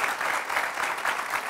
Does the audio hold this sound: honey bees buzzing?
no